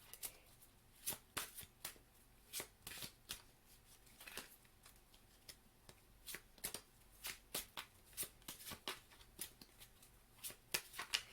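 Oracle cards being shuffled by hand, a quick run of soft papery riffles and slaps that repeats steadily at close range, quiet and alone with no voices.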